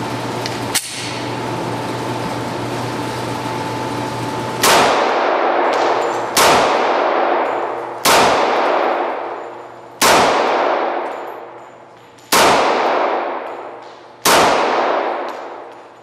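Six loud, sharp pistol shots fired with Federal ammunition, spaced about one to two seconds apart, each leaving a ringing decay, after a steady background hum and a single metallic click.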